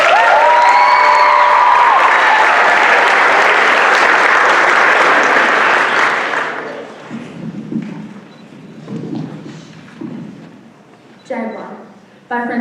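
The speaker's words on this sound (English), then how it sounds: "Give it up for Kalia." Audience applause at a youth poetry recitation event, a dense loud burst of clapping for about six seconds that then fades into scattered claps and room noise.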